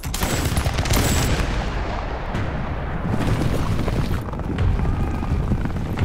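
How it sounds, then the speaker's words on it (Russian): Loud rifle gunfire crackling in rapid volleys, overlapping shots with booming blasts underneath, sustained throughout. "шведы ответили стрельбой"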